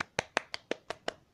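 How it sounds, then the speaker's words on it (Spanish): Six crisp hand claps ring out close by in an even, quick rhythm, with no voices or other sounds. "Aplausos, por favor. Producción, aplausos."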